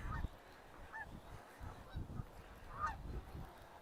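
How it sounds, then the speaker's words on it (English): A flock of geese honking as they pass overhead on an autumn morning walk beside a creek in Regina, with several calls rising and falling at a middling distance over a low outdoor rumble. "More geese going over."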